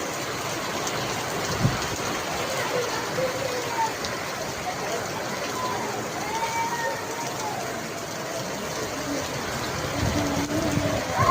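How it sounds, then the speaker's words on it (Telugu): Heavy rain pours down steadily over a village, a dense continuous hiss of drops on surfaces throughout, with a faint voice briefly audible beneath the downpour. "ఫుల్ వర్షం ఫ్రెండ్స్, చూడండి."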